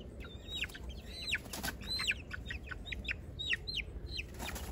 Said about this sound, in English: These are some pretty chickens right here.